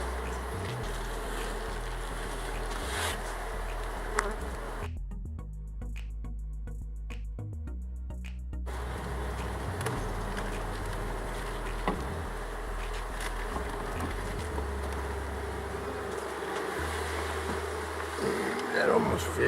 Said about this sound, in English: I have some bees that could use a home.